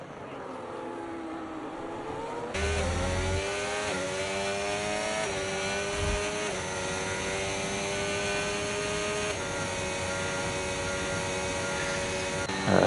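Alpine race cars in a sim racing game, run on the Abu Dhabi circuit, drone and whine steadily in a close pack, with revs rising and dipping through the gears under commentary.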